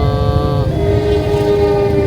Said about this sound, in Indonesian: Ya itu keretanya datang.